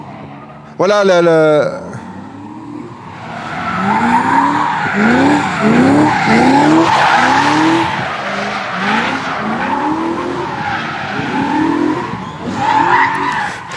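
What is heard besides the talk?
drift cars with V8 engines skidding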